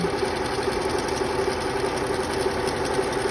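A sewing machine runs steadily, stitching the hem of a homemade fabric mask, a continuous close mechanical hum and whir with no pauses.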